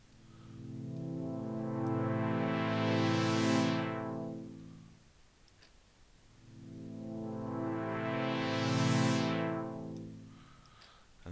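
Two sweeping notes from a Thor synthesizer with raised low-pass filter resonance each swell and then fade. The resonant filter rises sharply through the harmonics on each note, with a quiet gap between the two sweeps.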